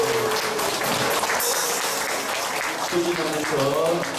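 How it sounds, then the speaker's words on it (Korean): A church congregation claps together in sustained, dense applause that fills the room at close range, with voices mixed in beneath the clapping. "서로 축복과 격려의 박수를 한번 선포하겠습니다."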